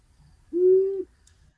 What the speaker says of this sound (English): So very similar to the great horned owl, but it's just one note,